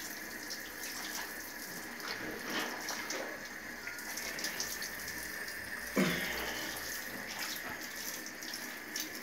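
Water poured from a tap to bathe a pet cockatiel, a faint, steady splashing trickle with a few louder gushes, heard alone at low level.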